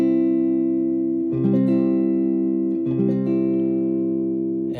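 Two strummed guitar chords, each ringing out steadily and sustaining with rich harmonics, the second struck about halfway through, no voices.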